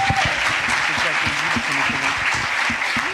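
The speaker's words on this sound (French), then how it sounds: "vous pouvez les applaudir, vraiment bravo" An audience applauds at a live comics convention panel. The clapping is dense, steady and sustained throughout, loud and close, with faint voices mixed into the crowd noise.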